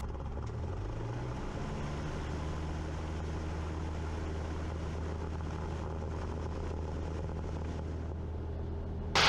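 Steady drone of a Cessna light aircraft engine building for the takeoff roll on a runway, with a continuous low propeller hum and a slight rise in pitch early on, no voices.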